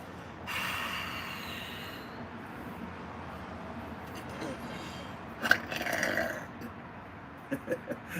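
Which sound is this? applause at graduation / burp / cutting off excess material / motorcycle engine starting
burp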